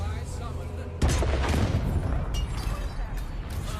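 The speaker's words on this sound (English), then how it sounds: "Or maybe you want to just fire a cannon at him." Cannon fire in a video game, played during an MMA podcast: a sudden loud boom with a burst of crackling gunfire-like noise that rolls on through the rest of the clip, under a steady background bed.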